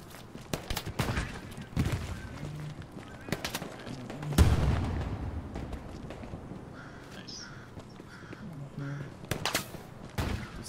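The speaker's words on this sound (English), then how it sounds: "There's someone shooting at it." Scattered gunfire in the WWII shooter Hell Let Loose, with sharp shots cracking at irregular intervals, mostly distant, and one louder blast near the middle over a low battlefield rumble.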